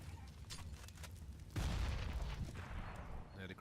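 Grenades going off in Counter-Strike on the Inferno map during a G2 match, a sudden loud rumbling blast halfway through that decays into a roar, with commentators talking underneath.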